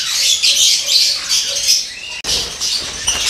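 Birds chirp and squawk densely up close, a busy chorus of high tweets with wing flutters, after a brief break the flock continues just as loudly.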